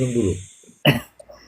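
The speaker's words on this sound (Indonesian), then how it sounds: "Aduh jadi batuk beneran gue." A single sharp cough, close and sudden, bursts out after a faint vocal sound and is followed by a couple of small throaty noises.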